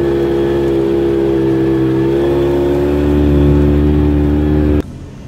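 A toy car drives with a loud, steady electric motor whine and buzzing hum that holds evenly, swells slightly, then cuts off abruptly near the end.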